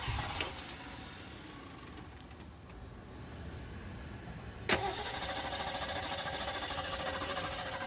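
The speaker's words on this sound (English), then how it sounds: "Let's see if it cranks. It actually tried to start." An old vintage muscle car engine cranks and tries to start, a steady mechanical churning with a sharp jolt partway through before the cranking continues.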